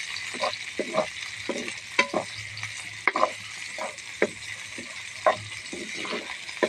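Chopped onions fry in a pan for a dried kachki fish and potato bhuna, giving a steady close sizzle broken by irregular spatula scrapes and light clinks as they are stirred, with no talking.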